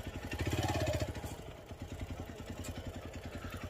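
A KTM motorcycle engine thuds in a steady low pulse, close and fairly loud at first, then easing slightly and idling on with a rhythmic clatter on a mountain road trip to Parashar Lake.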